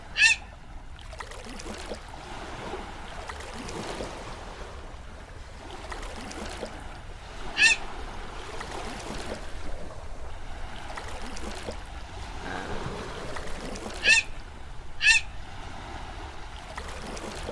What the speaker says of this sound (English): I hate seagulls.